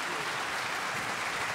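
An audience applauds in a concert hall after a symphony orchestra performance, a dense, steady wash of many hands clapping at a moderate distance, continuous throughout with no voices above it.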